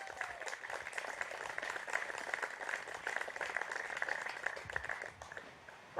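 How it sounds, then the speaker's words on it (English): Wedding guests give a round of applause at an outdoor ceremony, a steady, fairly quiet patter of many hands clapping together for several seconds before easing off. "Round of applause."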